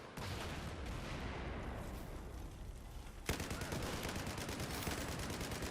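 Dense, continuous gunfire from the video game Battlefield 4 on the Operation Locker map, loud and sustained, with a sharper burst of rapid shots in the second half; no voices.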